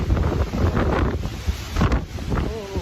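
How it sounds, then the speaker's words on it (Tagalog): Steady wind buffeting an outdoor microphone, a continuous rumbling roar with gusts rising and falling throughout, no talking. "Mahangin sa labas"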